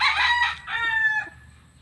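A rooster crows once, close and clear, a bright drawn-out call with no voices around it.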